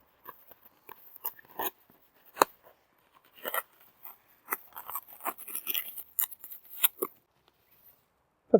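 Scissors snip through reflective greenhouse lining in a string of sharp, close cuts, irregular bursts with short pauses between them, heard with no voices.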